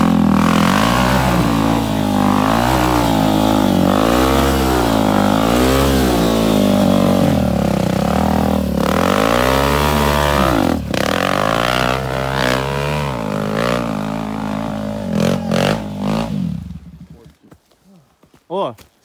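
A motorcycle engine revs repeatedly, rising and falling in loud pulses close by for most of the clip before cutting out, with men chatting over it about the bike's exhaust pipe.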